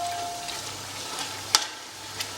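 Tomatoes and onions fry in a pan for a spicy mutton curry, a steady soft sizzle punctuated by one sharp clink of a utensil.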